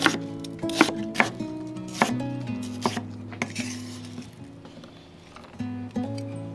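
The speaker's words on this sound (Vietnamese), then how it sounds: "Hành tím mình dùng một củ cắt nhỏ ra" A knife chops a shallot on a cutting board in a series of sharp, close, irregular knocks, heard alone apart from a little background music.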